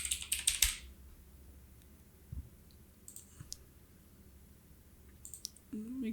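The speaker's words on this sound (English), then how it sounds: "And I'm going to type in hashtag modern." Fingers type on a computer keyboard, with a quick burst of clicking keystrokes at the start, scattered single taps in the middle and a few more clicks at the end, close and fairly quiet.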